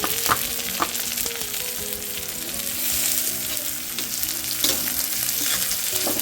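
Onion and tomato fry in a pan with curry leaves, giving a continuous loud sizzle broken by sharp clinks and scrapes of a spatula against the metal, with no talking.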